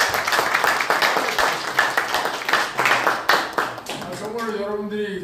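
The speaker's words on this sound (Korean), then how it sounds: "박수 한번 칩시다." Audience clapping at a civic movement gathering, a steady spread of claps running for several seconds under the room's background, with a voice starting to speak toward the end.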